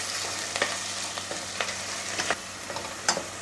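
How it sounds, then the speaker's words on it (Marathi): Onion frying in a pan for chicken curry, a steady close sizzle with occasional light scrapes and taps of a spoon stirring, no talking. "कांदा छान मी गोल्डन ब्राऊन रंगावरती परतून घेतलेला आहे।"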